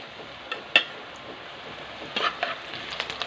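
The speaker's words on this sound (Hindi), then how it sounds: "ये जो जुड़ जाते हैं वो ऑटोमेटिकली घी में आके खुल जाते हैं।" Namak pare dough pieces deep frying in ghee, giving a soft steady sizzle with a few sharp clicks and bubbling pops scattered throughout, no voices.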